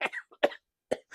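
Three short, harsh coughs sound close to the microphone, with the first a little ragged, separated by brief silences, and nothing else audible.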